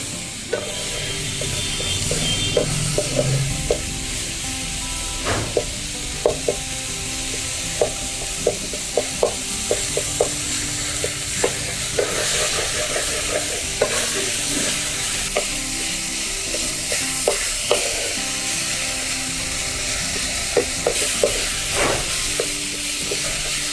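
Tomato and spice tadka for a Punjabi village-style mooli bhurji sizzles steadily in a pan, a continuous frying hiss broken by frequent sharp clicks and ticks of stirring, close and fairly loud with no talking.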